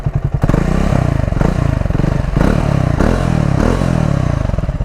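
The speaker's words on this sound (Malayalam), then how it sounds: "എക്സോസ്റ്റ് നോട്ട് കുറച്ചും കൂടെ ബേസ് ഉള്ളൊരു എക്സോസ്റ്റ് നോട്ടാണ് ഇതിന് വന്നേക്കണേ." A Triumph Speed T4 motorcycle's bassy exhaust note, idling close by in a loud, deep, steady thumping pulse with a few short blips of throttle that swell and fall back.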